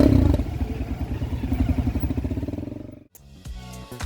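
A rented Honda CRF 250 enduro motorcycle revs with a rapid, pulsing engine putter and rattling clatter, close and loud. The engine then drops abruptly to a quieter, uneven idle near the end.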